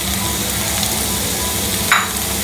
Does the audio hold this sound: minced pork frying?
yes